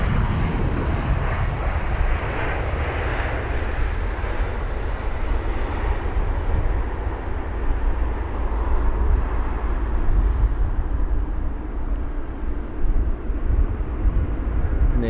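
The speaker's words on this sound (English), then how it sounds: "There's the American 777-200, and that should be taxiing to 27 left" An American Airlines Boeing 777-200 airliner taxiing at London Heathrow toward runway 27 left, a steady, loud broadband jet engine rumble with wind noise, continuous throughout and close by.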